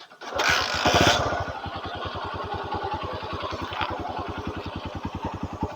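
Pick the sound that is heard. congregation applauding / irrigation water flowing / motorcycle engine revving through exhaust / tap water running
motorcycle engine revving through exhaust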